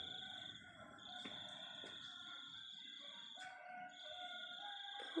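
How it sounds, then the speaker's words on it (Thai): A rooster crows outdoors amid a steady chorus of birdsong, fairly loud, with no talking. "เสียงไก่ขันพี่น้องนะคะ"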